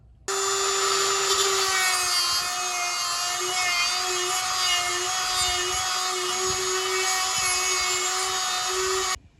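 A Dremel rotary tool with a porting bit grinds a screw extractor steadily at a high, piercing whine for about nine seconds, loud and close, with no pauses.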